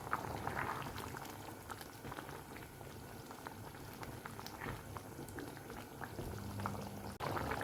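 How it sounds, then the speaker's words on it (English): Tehri, a one-pot dish of rice and vegetables seasoned with black salt, bubbles away in a pot of water, a continuous close simmering burble with small pops and no talking. "I'll just let that boil for a few minutes till the water is reduced slightly"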